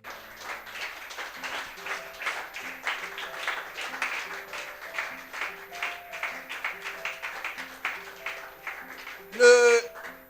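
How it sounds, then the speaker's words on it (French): Church congregation at a French-language service clapping and cheering in praise of God, a loose, moderately loud wash of applause mixed with voices and music, with a short louder burst near the end. "Acclamons fortement notre Dieu."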